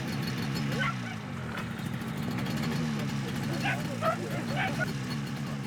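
Several dogs bark and yip in short scattered bursts at a distance in wintry Siberia, over a steady rumbling background.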